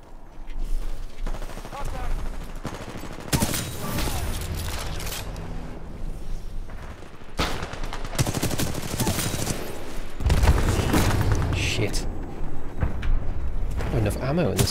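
Rifle fire in Titanfall 2 multiplayer, including an R201 assault rifle and a sniper rifle on PC: repeated loud bursts and volleys of shots with mechanical clatter, broken by short pauses, running under steady talk throughout.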